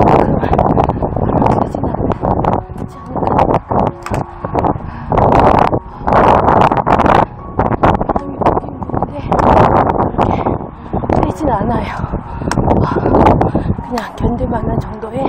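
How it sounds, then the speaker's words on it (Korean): Typhoon-driven wind buffets the microphone on a forest path along the Camino de Santiago in Spain, loud gusty rumbling that rises and falls while a person talks throughout. "그냥 견딜만한 정도의 바람입니다."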